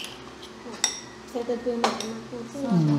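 Soup bowls and spoons clink together in a family toast at a meal, several light knocks and rattles over a murmur of voices, with someone speaking toward the end.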